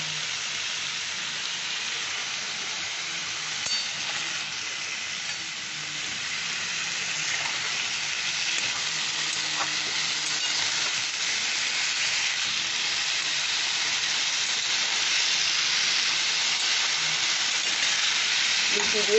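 Potatoes sautéing with salt in a pan for a white potato curry, giving a steady, loud broadband sizzle that builds slightly over the stretch, with faint stirring scrapes and no talk.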